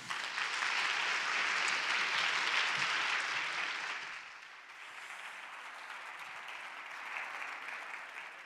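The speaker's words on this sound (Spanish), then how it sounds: "se merece un aplauso enorme para Elena Pinilla" Audience applause for Elena Pinilla at the OGMIOS 2019 talk, a dense, loud burst of clapping that eases after about four seconds and carries on at a steadier, slightly softer level.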